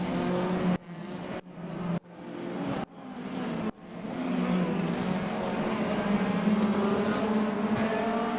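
Race cars running in a tight pack of seven, a loud engine whine climbing repeatedly through quick gear shifts with brief sharp cuts, then settling into a sustained high drone.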